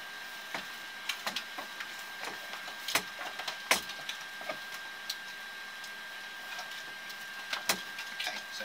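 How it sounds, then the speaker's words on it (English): A caving rope pulled through by hand gives a steady faint rustle broken by scattered sharp ticks and clicks, close and irregular, with no one talking. "That should take a few seconds just to pull the rope through."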